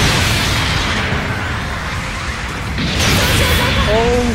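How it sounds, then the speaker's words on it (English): A beam rifle shot explodes against a mobile suit in Gundam Battle Operation 2, blowing off most of its legs. The blast is a loud, dense rumble that swells near the end, with a voice talking over it. "This one shot from the beam rifle and it just eliminated most of my legs"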